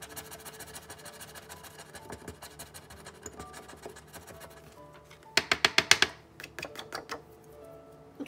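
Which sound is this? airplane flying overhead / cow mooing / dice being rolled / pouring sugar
dice being rolled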